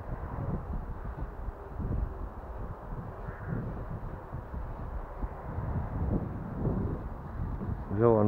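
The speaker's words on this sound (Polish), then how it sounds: "Oj, wieje teraz bardzo mocno, bardzo mocno." Strong gusty wind buffeting the microphone outdoors during a Walkera drone flight, a low rumbling roar that swells and fades throughout, with someone talking over it.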